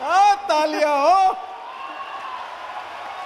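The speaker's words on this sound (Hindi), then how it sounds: "तालियां हो।" A live audience at a Hindi comic poetry gathering breaks into applause right after a voice, a diffuse moderate patter of clapping that holds steadily to the end.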